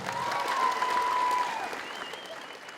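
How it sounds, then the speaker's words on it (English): Steady applause from a crowd at a school debate, moderately loud and continuous, tapering slightly toward the end. "Please, a round of applause to the two teams."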